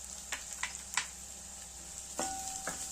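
Onion, green chili, curry leaves and peanuts frying in oil in a pan for Vidarbha-style ukadpendi, giving a soft steady sizzle with a few sharp stirring clinks and scrapes spaced through the moment.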